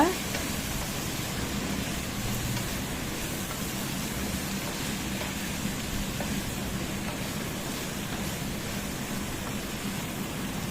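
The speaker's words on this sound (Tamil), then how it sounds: "ஒரு டென் செகண்ட் நல்லா வதக்கி விடுங்க" Potato slices fry in oil in a pan, a dense, even crackling hiss like steady rain that holds at the same level throughout, with a voice faintly present under it.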